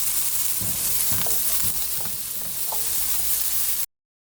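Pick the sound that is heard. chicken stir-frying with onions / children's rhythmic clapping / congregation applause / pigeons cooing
chicken stir-frying with onions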